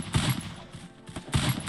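Gunfire in the mobile shooter game Free Fire, two quick clusters of pistol shots a moment apart, sharp and punchy, with a quieter stretch between them.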